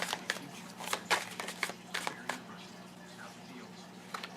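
Tarot cards being shuffled and drawn, with soft irregular flicks and slaps of card stock close by, several distinct snaps early on that thin out into quieter handling.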